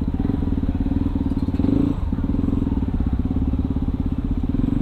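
A supermoto motorcycle fitted with a racing exhaust idles and putters close by in a loud, rapid, steady beat, with a short uneven thump partway through.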